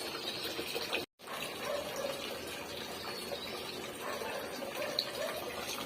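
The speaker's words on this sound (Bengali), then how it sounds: "জল ভরছি, গাছগুলোতে জল দিতে হবে।" Tap water gushes steadily into a container, filled to water balcony plants, a continuous close splashing rush with one brief cut near the start.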